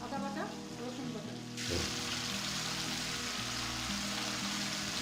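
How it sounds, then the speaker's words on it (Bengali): Ginger and garlic paste hitting hot oil with browned onions in a pan for a Bengali tilapia fry, a sudden loud steady sizzle taking over from quieter stirring, with someone talking underneath. "আদা বাটা রসুন বাটাটাকে আমি একটু তেলের ভিতরে একটু ভেজে নিব"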